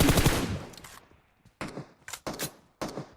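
Automatic gunfire in the mobile video game PUBG Mobile rings out in loud rapid bursts: one long volley, a pause, then four short close bursts in quick succession, with no talking.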